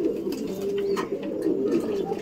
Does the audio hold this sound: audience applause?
no